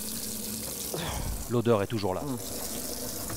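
Tap water runs steadily into a sink in a home where shale gas drilling has left the water undrinkable, a constant close hiss under a brief stretch of speech.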